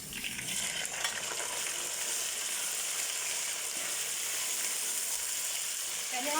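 Mutton pieces fry in a pan after golden onions, giving a loud, steady sizzle that fills the whole stretch with no talk over it.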